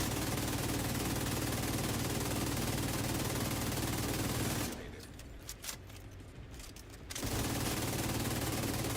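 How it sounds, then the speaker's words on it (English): Machine gun fire in a video game rattles continuously and loudly, cuts out for a couple of seconds, then resumes as a dense, rapid, unbroken burst. "you're shredding them"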